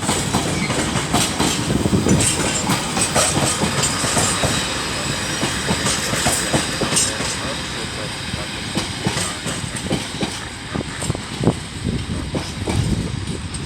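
A freight train hauled by a class 66 locomotive with three KFA wagons rolls past at Crewe, with clattering wheels, rhythmic clicks and occasional metallic squeals close by and no one speaking.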